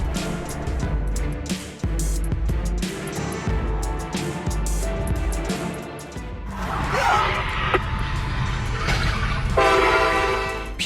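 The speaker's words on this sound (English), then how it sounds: "A driver blows straight through the crossing gate, missing a CSX train by seconds." A CSX train rumbles past a level crossing with rhythmic clatter, then a loud, sustained horn blast sounds near the end; no voices.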